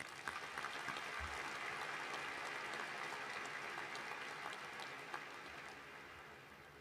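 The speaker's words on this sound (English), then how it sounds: "Please give them a round of applause." Faint, distant applause from a large audience at a spring business college commencement ceremony, a steady wash of many hands clapping that fades slightly toward the end.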